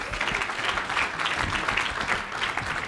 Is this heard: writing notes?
no